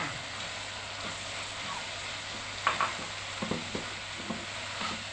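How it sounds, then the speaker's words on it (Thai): A peanut filling is stir-fried over low heat with a soft, steady sizzle, punctuated by occasional scrapes and taps of a spatula against the pan. "ผัดให้ทุกอย่างเข้ากันดีนะคะ"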